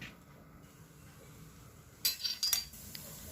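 Quiet background, then a few brief metallic clinks and scrapes of a spoon scooping cooked rice from a pot, close and short.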